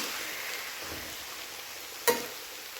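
Broccoli sabzi sizzles steadily in a pan as it is stirred, a soft continuous hiss with one sharp scrape or clack near the end.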